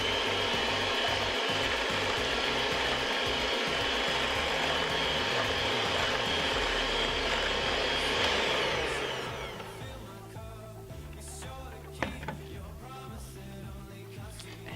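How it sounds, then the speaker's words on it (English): An electric hand mixer whirs steadily through cupcake batter, a loud continuous motor drone that drops to a quieter hum partway through, followed by faint clinks, with no talking. "I'm using a hand mixer. Just going to blend this until it's kind of frothy."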